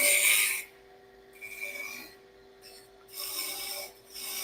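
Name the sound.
turning tool roughing wood on a lathe, rolling pin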